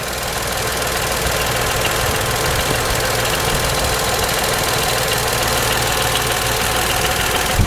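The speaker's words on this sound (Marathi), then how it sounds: "खास पब्लिक डिमांडवर आम्ही तुम्हाला इंजिन नॉईज आणि कॅबिन नॉईज दाखवलं होतं." A 2020 Tata Nexon XMS BS6 engine idles with the hood open, giving a close, steady, even mechanical hum with light knocking texture, continuous and alone without any talking.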